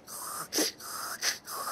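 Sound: child imitating snoring as a snoring dinosaur

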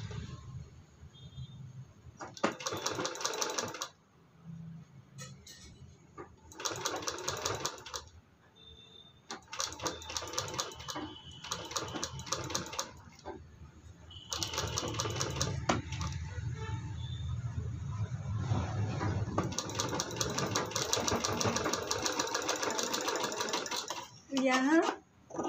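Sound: sewing machine stitching baby sock boot

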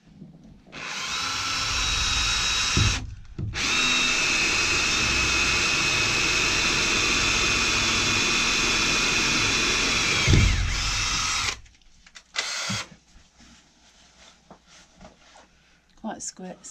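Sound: power drill drilling into narrowboat ceiling

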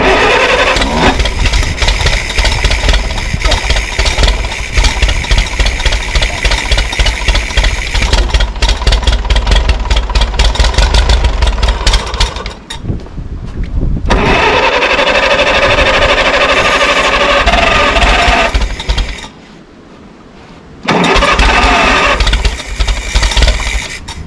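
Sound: tractor engine starting and running

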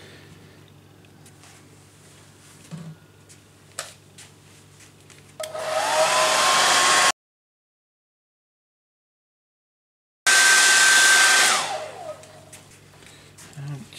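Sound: hair dryer drying a watercolour painting

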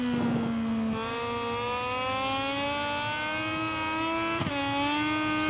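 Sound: Moto2 motorcycle engine revving, throttle feathering, from GP23 video game

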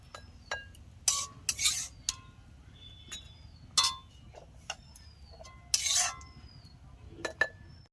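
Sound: spooning ash gourd tutti frutti into four bowls

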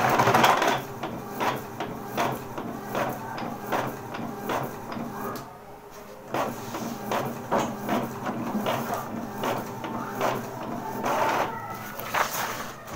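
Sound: Epson L380 printer printing a page

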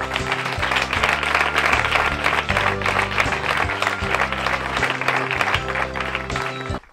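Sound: applause

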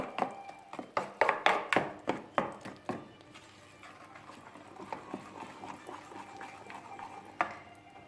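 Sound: stirring flour into crepe batter

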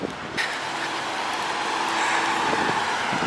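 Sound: Planters Nutmobile giant peanut vehicle driving up

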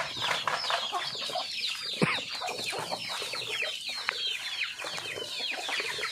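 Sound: ducks on a farm behind the house

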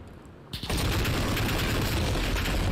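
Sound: RAAL MG machine gun firing, video game Call of Duty: Modern Warfare

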